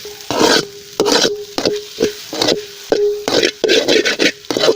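Egg fries in a hot pan with pepper, stirred in quick repeated scraping strokes over a loud, close, crackling sizzle, with no talking.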